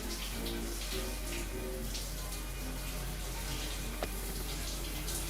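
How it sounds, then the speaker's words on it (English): Water flows steadily in the horror game The Amusement, a continuous rushing, tap-like wash of even loudness with a low hum underneath and no break, heard from nearby. "We can hear the water flowing on the other side."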